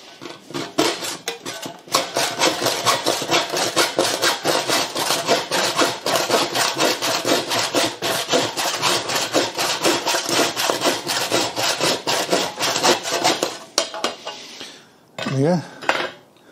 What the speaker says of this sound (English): I'll get a hacksaw and cut it.